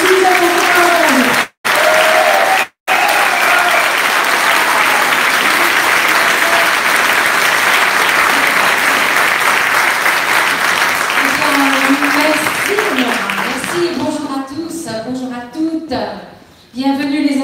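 Sustained loud applause and cheering from an audience at a political public meeting in Rennes, dense and steady for most of the span, with a speaking voice over a microphone emerging near the end as the clapping thins.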